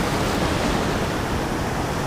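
Ocean waves roll and break in summer surf over white water near scattered boulders, a steady, loud, close wash of noise that never lets up, with no voices.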